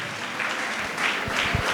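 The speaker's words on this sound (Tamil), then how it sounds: "மரியாதைக்குரிய நீதி அரசர் அவருக்கு நல்ல ஒரு கைத்தட்டல் கொடுங்க." Audience applause at a Tamil comedy debate event, a steady burst of clapping from a crowd with no talk.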